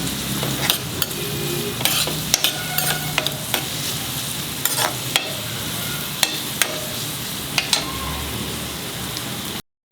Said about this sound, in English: Put in the onions and saute it for some time till it becomes translucent.